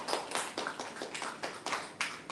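An audience at a workforce training session claps in a steady rhythm of distinct, fairly faint hand claps, several per second.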